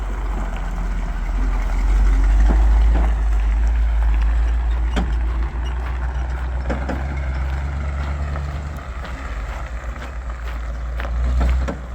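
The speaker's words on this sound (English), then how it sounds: "So now he's gonna just drive the truck around back" A 1967 C60 truck with a 366 engine, 5-speed manual and 2-speed rear, low-geared, rumbling as it drives around: a deep, steady engine drone with a heavier surge early on and intermittent knocks and rattles.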